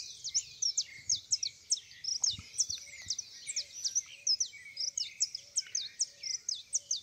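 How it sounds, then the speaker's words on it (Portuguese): Birds sing around flowering pumpkin plants visited by bees, with steady, bright overlapping chirps and trills throughout and a faint low hum beneath. "A gente só escuta cantar dos pássaros, as abelhas, as abelhinhas miúdas, os mirim, os insetos miúdos."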